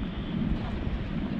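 Strong wind at roughly 40 mph buffets an outdoor microphone on a farm where dust blows across sand knobs, a steady, loud roar with fluctuating rumble and no clear pauses.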